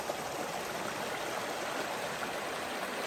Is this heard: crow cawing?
no